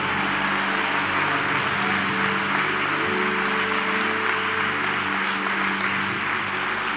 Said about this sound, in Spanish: Go ahead, clap it like you love him.